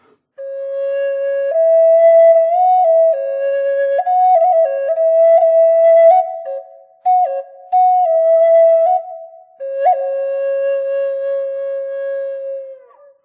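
A Native American flute plays a simple melody over about three pitches, moving between three fingers closed and lifting the middle and top fingers. The breathy tone is clear and sustained, with brief pauses between phrases and no talking.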